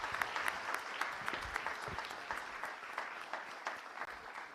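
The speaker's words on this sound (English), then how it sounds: "a big round of applause for every one of our awardees." Steady, dense applause from an audience honouring awardees at a children's champion awards ceremony, continuous and moderately distant, with no voices over it.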